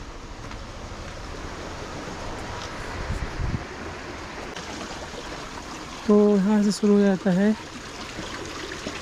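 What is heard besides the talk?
flowing water, stream in Turtuk village, Ladakh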